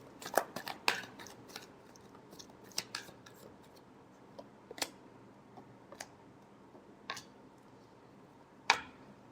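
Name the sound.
shuffling tarot cards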